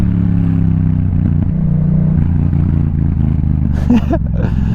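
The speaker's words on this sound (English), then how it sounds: "Now I can hear how loud my bike is actually." A loud motorcycle engine runs steadily close by, a deep continuous rumble with a brief rise near the end, heard while standing in the middle of a road.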